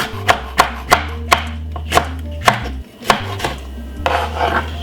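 A knife chops green pepper on a cutting board in a quick, steady rhythm of about a dozen sharp, close strikes, loud and clear with no talking.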